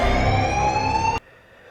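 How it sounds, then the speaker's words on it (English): A loud, steady electronic alarm in the film Oblivion blares for just over a second, then cuts off abruptly, leaving quiet room noise. "The alarm saved them."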